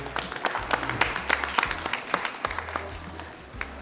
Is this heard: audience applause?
yes